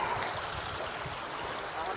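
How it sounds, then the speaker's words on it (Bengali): Cold stream water runs down from the hills with a steady, even rush and gurgle that fills the whole moment without a break. "এটা পাহাড় বেয়ে আসে পানিগুলো"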